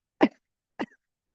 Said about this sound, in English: give a little fake cough